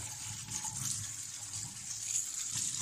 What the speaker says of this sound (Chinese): 我们先把这个海鲜菇洗一下